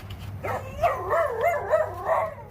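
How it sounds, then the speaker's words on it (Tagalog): A dog nearby giving a string of whiny, yelping barks, rising and falling in pitch over a couple of seconds, in a home kitchen. "Kaso, Maingay yung aso namin."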